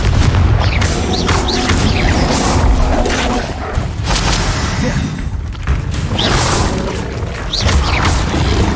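Repeated booming blasts of the Confringo explosion spell in Hogwarts Legacy, loud and dense, with several heavy impacts rolling into one another over a continuous rumble of game effects.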